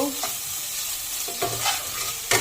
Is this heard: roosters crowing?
no